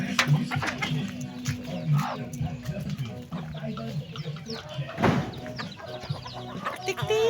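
Chickens cluck and squawk close by in a yard, a busy overlapping chatter of hens with sharper calls and a few louder bursts, no speech heard.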